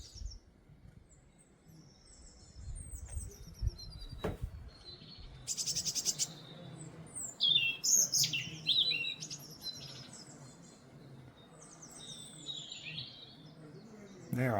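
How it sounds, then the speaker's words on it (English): Birds singing outdoors in the grounds of a local museum in Narborough, scattered chirps and tweets at moderate distance over faint ambient noise, with a few thumps and handling sounds. "You can just hear the birds."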